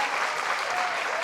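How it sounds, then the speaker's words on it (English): Steady, dense applause from a live audience at a grand inauguration event, filling the whole stretch evenly at moderate loudness with no break. "Let's give a round of applause for Jeremy again,"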